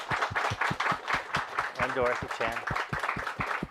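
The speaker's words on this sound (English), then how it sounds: "round of applause for Richard Siken" Small audience at a poetry night clapping, a light patter of separate hand claps under a voice speaking into a microphone.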